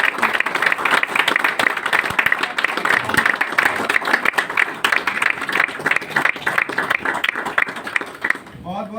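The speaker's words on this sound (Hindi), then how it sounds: "तो एक जोरदार तालियों के साथ" Loud applause from a gathered crowd welcoming guests at a company event, dense clapping sustained for several seconds before it tapers off, with voices mixed in underneath.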